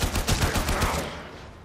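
Rapid automatic gunfire in the video game Warframe, a close, loud burst of quick repeated shots that tails off into a fading echo.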